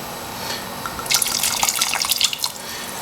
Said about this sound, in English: I'm going to just eyeball 1 to 200 milliliters of red wine